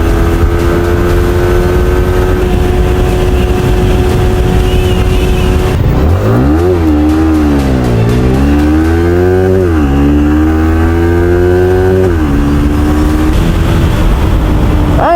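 A stock Yamaha Sniper 155R VVA motorcycle accelerates hard, its engine note rising steeply through several gear changes with dips between them and climbing again. The engine is loud and close, and no one speaks.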